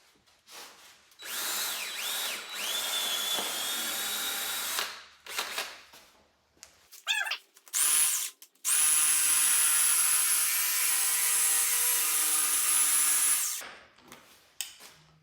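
A power tool fitted with a coarse wood blade cuts through the old rear tire of a Harley-Davidson Fatboy, running loud and harsh in long, steady bursts with short pauses and brief stops between cuts.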